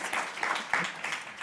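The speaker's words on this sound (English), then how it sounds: "and a round of applause as we" An audience claps for a speaker at a start-up business talk, a brief, steady patter of many hands at moderate volume.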